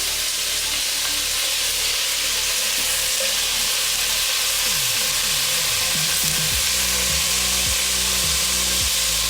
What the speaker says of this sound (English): we're going to keep on stirring this and letting this cook until they get nice and brown and soft